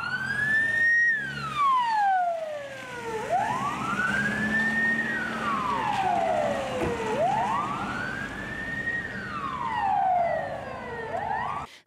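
Wailing emergency siren of an ambulance running with a police patrol escort, sweeping up and down in long cycles over steady traffic noise, loud and close throughout with no talk.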